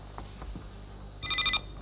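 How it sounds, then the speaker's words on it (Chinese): A household telephone bell rings once in a short electronic trill near the end, close and clear after a quiet room with faint movement. "电话，电话， 电话来了，"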